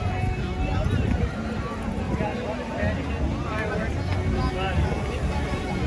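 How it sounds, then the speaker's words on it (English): Wind buffets the microphone at the Magic Kingdom theme park with a continuous low rumble, steady and close, with no talking heard. "Ooh, it's windy."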